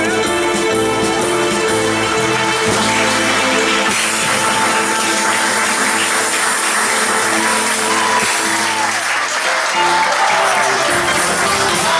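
Audience applause at an open-air Neapolitan song concert, the Piedigrottissima Festival del Sud at Maschio Angioino, heard as steady, dense clapping that carries on throughout, blended with lingering music from the stage.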